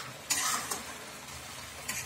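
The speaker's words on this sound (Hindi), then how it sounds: "चीनी डालने के बाद अब हम लोग इसे अच्छे से चलाएंगे ताकि चीनी अच्छे से मिक्स हो जाए।" Carrot halwa with sugar is stirred in a pan on the heat: a soft sizzle runs underneath, with a few quiet scraping strokes of the spoon close by and no talk.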